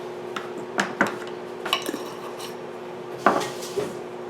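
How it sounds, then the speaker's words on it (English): Spoon clinking and scraping against a glass jar while stirring a yeast mixture, several irregular taps and knocks over a faint steady hum, close and fairly quiet. "I'm just going to give that a nice stir"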